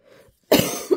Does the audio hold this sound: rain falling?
no